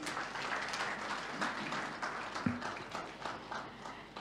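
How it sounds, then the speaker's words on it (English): Soft, fairly distant applause from the audience at a transport forum plenary session, a continuous patter of clapping at low level with one brief thud partway through. "Let's give Mr. Yao a big round of applause, please."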